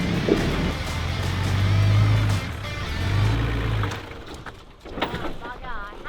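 Car engine labouring and revving as the car is forced up a bank on a rough loop road, two rising surges before cutting out, with people talking and outdoor background noise.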